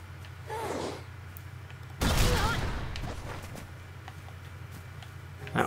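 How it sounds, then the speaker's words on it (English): A bomb explodes in the video game One Piece: World Seeker: a sudden loud, broad blast roughly a third of the way in, fading into a long rumbling tail over steady low game ambience. "That was a bomb."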